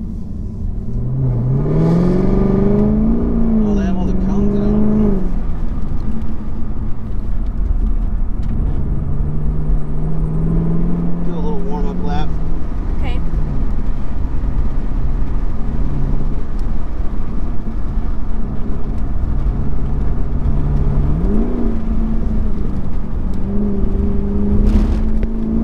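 A 650-horsepower race car engine drives and revs loudly up close, its pitch climbing and falling through repeated surges of acceleration over a steady rumbling drone for the whole stretch, with no talk.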